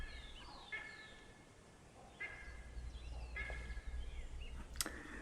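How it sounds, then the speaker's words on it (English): Faint birds call in the background, with a few separate chirps spread over a low steady hum. "At least the birds get us chilling out"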